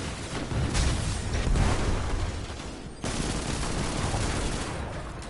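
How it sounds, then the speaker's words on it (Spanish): Dense, continuous gunfire and booming blasts in the video game Destiny 2: Beyond Light rumble throughout, a chaotic barrage with a brief cut midway before the shooting carries on. "Escuché disparos."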